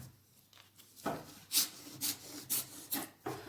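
A knife slices through folded paper for a children's craft calendar, with short rasping strokes repeating roughly every half second, close and moderately loud after a quiet start.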